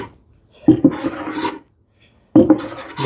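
A hand tool rasping along the sharp arris of a wooden edge: two short bursts of scraping swipes, each with a couple of strokes, separated by a brief silence, close and distinct.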